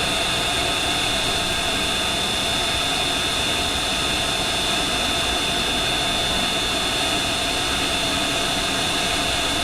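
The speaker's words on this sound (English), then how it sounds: "Start engine number 3. Okay. Turning number 3. Start valve open, holding 26." Boeing 727 jet engine, number 3, spooling up during an engine start in a flight simulator game: a loud, steady broadband roar with a high whine, continuous and unchanging, no voices.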